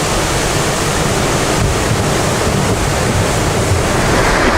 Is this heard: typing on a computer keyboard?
no